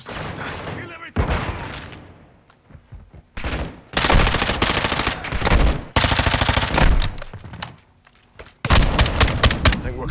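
Gunfire in Modern Warfare 2 Remastered comes in loud, close bursts of rapid automatic shooting and heavy blasts, separated by brief lulls as the firing starts and stops repeatedly.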